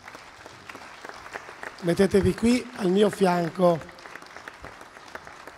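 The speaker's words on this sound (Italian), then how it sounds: "salutiamola con un caloroso applauso" Audience applause fills a hall at a gala concert for an international piano competition, a dense crackle of clapping that runs throughout while someone speaks briefly over it in the middle.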